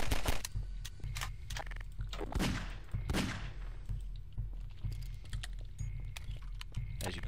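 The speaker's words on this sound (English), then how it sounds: "start shooting the shit out of him" Video game gunfire rattles in quick bursts of sharp cracks, loud and close, tapering into scattered shots with no talk over it.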